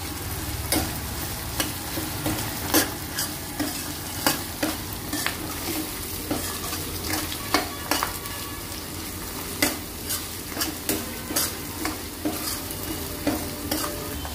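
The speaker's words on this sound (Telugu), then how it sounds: "ఇంత మిడిల్ ఫ్లేమ్లోనే వేగనివ్వాలి. అల్లం వెల్లుల్లి పేస్ట్ అడుగంటకుండా ఇలా కలుపుతూ ఉండాలి." Ginger garlic paste frying over a medium flame for a spicy Andhra egg pulusu, with a continuous sizzle under regular, sharp scraping strokes of a spoon repeating every second or so, close and loud.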